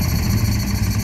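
A close Honda adventure motorcycle engine idling with a steady low rumble and even, slightly uneven pulsing, loud and continuous, without spitting.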